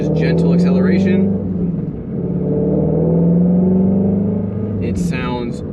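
Ford Shelby GT350R with its factory X-pipe exhaust pulling under gentle acceleration, a steady deep engine drone that rises and swells over several seconds, with brief speech heard over it.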